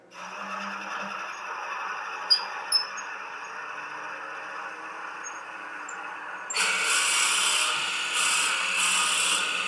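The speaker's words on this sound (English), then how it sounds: "So I'm drilling right until I get to this surface" A power drill runs steadily into a wooden container with a sustained whirring drone, then grows louder and harsher about two-thirds through as the bit bites deeper, with a couple of brief clicks early on; no talking.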